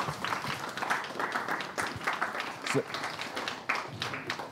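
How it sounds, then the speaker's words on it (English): An audience at a student union sabbatical officer election question time applauds as the candidates head back to their seats, a steady mid-level clapping with voices mixed in. "A round of applause for them as they leave finally."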